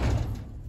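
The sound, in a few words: sticking barn door being pulled open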